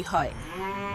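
A cow moos briefly in a village, a short low call at the start with a voice speaking over it.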